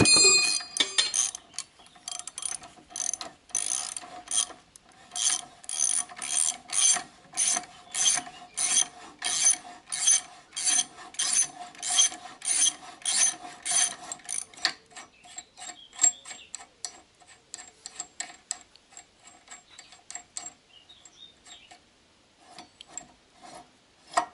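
Ratchet wrench with a 23 mm socket unscrewing the axle bolt on the front axle of a Citroën Traction 11B, a long run of rapid, even clicks that slows into sparser ticks, close and alone.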